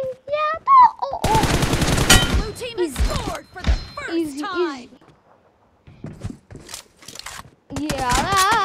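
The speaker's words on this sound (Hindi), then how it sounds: "ये भाई कौन सी गन चल रही है" Rapid automatic gunfire in a team deathmatch shooter game, a loud sustained burst early on followed by scattered shots, mixed with someone talking over it.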